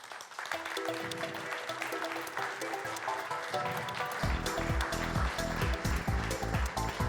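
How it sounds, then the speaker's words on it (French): An audience at a château gala applauds as a guest walks on stage, continuous clapping over loud rhythmic music with a heavy bass beat that kicks in partway through. "Nous invitons d'abord sur scène, sous un tonnerre d'applaudissements, Pierre Arriga."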